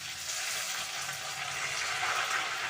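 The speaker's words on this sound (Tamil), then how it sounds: "நம்ம வெங்காயம் பூண்டு தட்டி வச்சுருக்கோம் இல்லையா, அவங்கள நம்ம கருவேப்பிலையோடு சேர்த்து போட்டுக்கிறோம்." Crushed onion, garlic and curry leaves frying in a clay pot give a steady, close, hissing sizzle that holds evenly throughout, with no talking.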